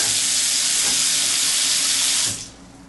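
Water from a tap runs steadily into a bathroom sink fitted with a pop-up drain valve, a broad close hiss that cuts off sharply near the end, leaving only a faint trickle as it drains.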